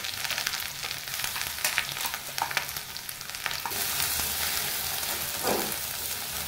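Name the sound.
frying coffee leaf and garlic paste in a pan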